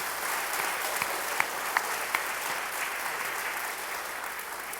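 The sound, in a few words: church congregation applause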